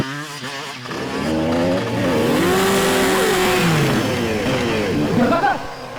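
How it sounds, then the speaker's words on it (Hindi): A motorcycle engine revs hard during a bike stunt, its pitch climbing and falling in loud, close sweeps for several seconds. "जिस तरीके से इसने बाइक का स्टंट किया है"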